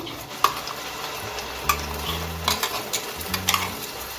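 Spice paste hits hot oil with tempered whole spices for a Bengali pabda fish curry, giving a continuous close sizzle broken by several sharp clinks and scrapes of a spoon stirring in the pan, without any talking.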